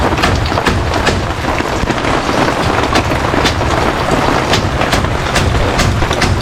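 Heavy, steady hiss of rain or sizzling with dense crackling texture, loud and continuous, with no voices, during outdoor cooking in the rain.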